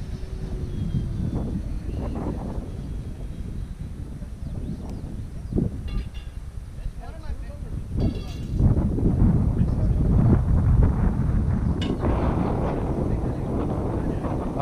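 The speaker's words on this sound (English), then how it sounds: "oh, the wind's really picking up." Wind buffeting an outdoor microphone at a model airplane flying field, a rough continuous rumble that swells louder partway through, with people talking over it.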